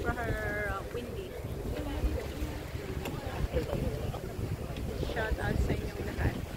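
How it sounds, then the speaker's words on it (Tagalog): Strong wind buffets the microphone outdoors during a national day fireworks gathering, a continuous low rumble and rustle with gusty bumps throughout, while people talk and call out in the background. "Super windy."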